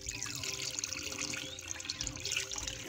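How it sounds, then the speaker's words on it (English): Water from a washing machine pours steadily into a bucket in a home, a continuous splashing, trickling flow that stays fairly loud and even throughout with no talking. "So what I do with this water, I put some of it in the bucket."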